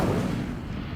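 An Incendio fire spell cast in Hogwarts Legacy, a loud, dense rumbling burst of flame that fills the whole second without a break.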